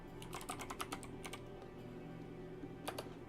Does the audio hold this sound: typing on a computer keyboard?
yes